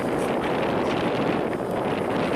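Wind buffets the microphone around a flying X-Vert drone outdoors, a steady loud broadband roar that continues throughout with no talk over it.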